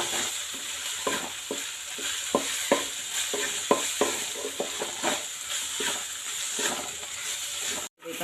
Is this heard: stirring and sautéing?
yes